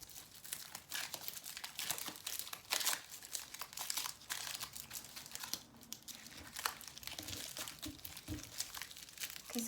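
Tarot cards are shuffled and laid out close by, giving a continuous crisp rustle and crinkle of card stock with small flicks and taps, fairly faint and with no talk.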